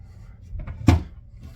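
A mirror-side storage cabinet door in a cruise ship junior suite cabin swings open with a single short click and thump, close and moderately loud, with faint room noise before and after.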